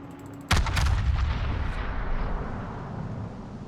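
Loud naval turret guns firing in the World of Warships naval combat game, a sudden heavy blast followed by a rolling, booming rumble that slowly fades, with no talk.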